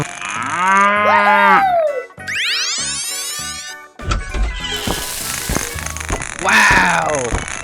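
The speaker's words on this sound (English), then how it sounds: "cow," A cow in a 3D animal video game lets out a long, loud, wavering moo, followed by a cartoonish rising boing and busy game sound effects with a voice mixed in.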